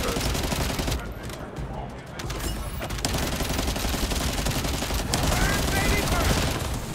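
Rapid bursts of gunfire from a shooter video game, The First Descendant, crackle almost continuously, with occasional brief gaps, while players talk over the action.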